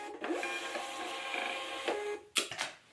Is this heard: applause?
no